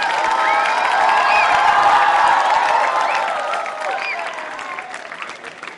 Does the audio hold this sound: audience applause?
yes